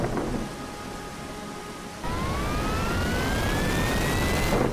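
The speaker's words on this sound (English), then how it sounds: "thunderstorms with heavy rain showers" Heavy rain hisses steadily through a stormy rumble. Partway through, a high whine rises and holds over the downpour.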